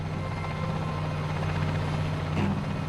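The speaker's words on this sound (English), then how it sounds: "a helicopter is taking off on a special mission" Helicopter lifting off near Pripyat during the Chernobyl disaster, its rotor and engine producing a loud, steady, close drone with a low throbbing hum that holds without a break.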